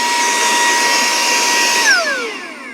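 A Saker 3-in-1 handheld vacuum cleaner runs with a loud, steady high-pitched motor whine close by, then the pitch drops and fades as it powers down near the end.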